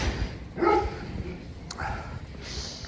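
A dog barks a few times at a moderate distance from outdoor kennels in winter, with whines and yips mixed in, over background noise and some talking.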